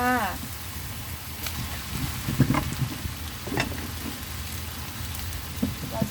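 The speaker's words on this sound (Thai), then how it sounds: "เส้น บะหมี่ของเราค่ะ ทุกคน เอา ลงไปผัดคลุกเคล้า ได้เลยค่ะ" Thin Indonesian egg noodles are stir-fried and tossed in a hot pan with a steady sizzle and scattered stirring scrapes, while a voice talks over the cooking.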